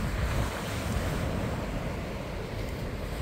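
Choppy surf washes continuously against a rocky shoreline at John Smiths Bay, Bermuda, a dense, steady roar of breaking waves with wind buffeting the microphone and no voices.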